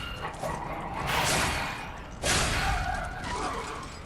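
A dog in the video game Lies of P gives a couple of loud barking yelps, about a second apart, over a steady game backdrop.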